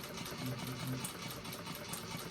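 Sewing machine back-stitching the flap of a fabric bag, a quick mechanical whirring run with rapid needle clatter that fades as the stitch finishes, heard without talk.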